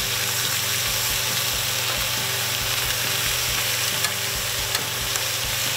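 Steady loud sizzling and crackling of iguana meat frying in a hot pan, with a few faint clinks over the continuous hiss.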